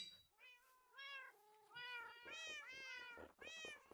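A video game cat meows several times in quick succession, the calls clear and close, varying in pitch and length, with no talk over them.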